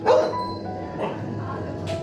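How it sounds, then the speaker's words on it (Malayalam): Dogs at a house with a pigeon loft in Wayanad, Kerala, give about three sharp, close barks spaced roughly a second apart. "ഇത്രയും കിടന്ന് കുരച്ച് കൊതുക്കി പട്ടികളും"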